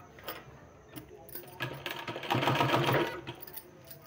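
A sewing machine stitches a sleeve seam, starting with a few short, quiet bursts of mechanical clatter before settling into a brief, steady run of rapid rhythmic stitching, close by in a quiet room.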